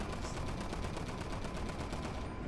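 Rapid gunfire in GTA V, a dense continuous burst of automatic shots filling the whole moment at steady loudness, with no talk over it.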